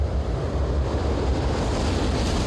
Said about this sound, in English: Huge hurricanes batter the coastline of the supercontinent.